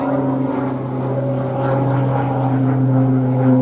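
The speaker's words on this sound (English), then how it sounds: "The aircraft continues upwards, appearing to hang more or less in mid-air" Tucano propeller aircraft flying an aerobatic hanging stall turn at Duxford Airshow, a steady droning engine hum with a tonal propeller whine, fairly loud and sustained, with a commentator speaking over it.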